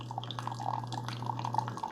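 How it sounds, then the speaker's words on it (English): A Keurig K-Slim single-serve coffee maker with MultiStream technology brews, its coffee dripping and trickling softly into a cup over a steady low machine hum, faint and close with no talking. "this coffee maker started brewing within about 10-15 seconds"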